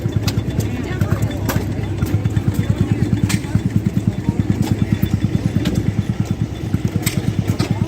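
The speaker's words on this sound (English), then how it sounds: "Mogul engine." International Harvester Mogul antique engine running at an antique power show, a loud, rapid, regular chuffing beat that continues steadily throughout, with voices faintly present.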